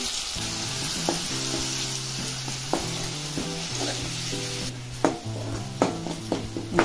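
A paste of green chili, coriander, garlic and cumin sizzles in a hot pan for palak gargatta, a steady close frying hiss with a low hum beneath it and a few sharp scrapes and clinks from stirring.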